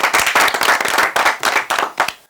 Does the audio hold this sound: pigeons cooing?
no